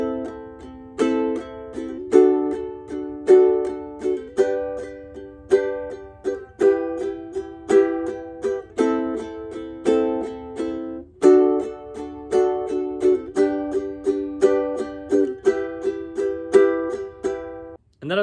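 A ukulele strums the chorus chords of a song, a steady close pattern of bright down- and up-strokes with regular chord changes throughout, played alone without singing or talk.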